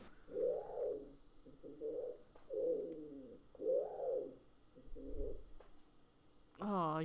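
A pigeon coos close by in a series of repeated throaty, bubbling calls with short pauses between them, ending in a higher, warbling note.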